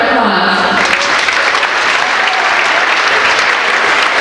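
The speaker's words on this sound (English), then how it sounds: "Let's give them a round of applause." Loud, sustained crowd applause fills a high school girls' basketball gym on senior night, dense and steady throughout, with some voices mixed into the clapping.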